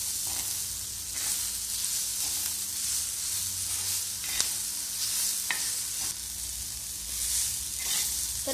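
Green chilies, ginger, coriander and garlic paste sauté with cumin in hot oil, giving a continuous close sizzle and hiss. Stirring scrapes and taps break in now and then, with no talking.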